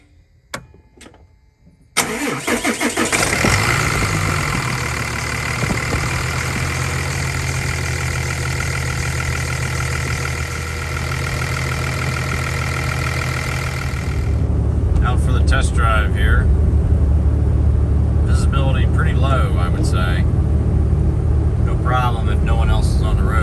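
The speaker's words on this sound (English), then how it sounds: "Let's fire this truck up and make sure it doesn't leak." A Cummins 6.7 diesel pickup truck cranks briefly and fires up, then settles into a steady, loud rumbling idle that continues to the end, with a voice speaking over the engine near the close.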